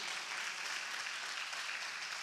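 A church congregation applauds in a dense, steady wash of clapping, fairly quiet and even throughout, with no talk standing out.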